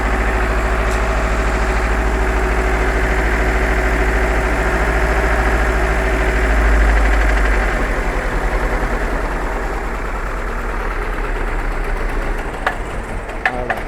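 A Fiat Bravo engine idles with its idle speed raised, a loud, steady close-up hum and vibration holding even throughout, dipping slightly near the end, with no talking.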